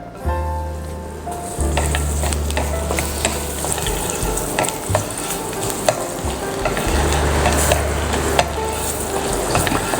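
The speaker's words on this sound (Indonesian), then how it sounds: "Kita tumis dulu bawang putihnya ya." Garlic sautés in a hot pan with a steady, loud sizzle, joined by scrapes and clinks of stirring, while preparing grilled chicken with mango sauce.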